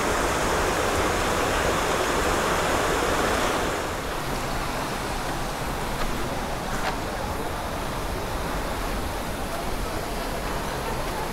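The seven-tier Satsada waterfall roars in a natural setting during rain, a loud, dense, unbroken rush of falling water that eases slightly after a few seconds but stays constant.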